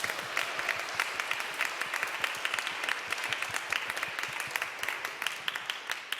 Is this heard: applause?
yes